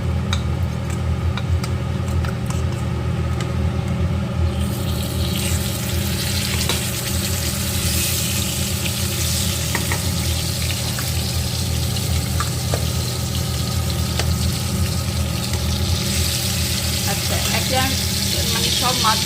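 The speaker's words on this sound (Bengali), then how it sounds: "আমি ভাজার জন্য ইলিশ মাছগুলো ফ্রাইং প্যানে উঠিয়ে দিয়েছি" Hilsa fish frying in hot oil in a frying pan: a loud, steady sizzle that swells sharply after a few seconds and then crackles on continuously, close up.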